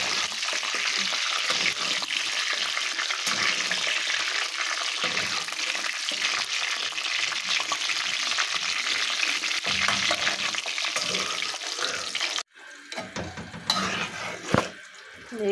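Jaggery melting and sizzling in a pan for Sindhi sweet rice (tahiri), a steady loud frying hiss running for about twelve seconds, then cutting out into quieter clinks and stirring.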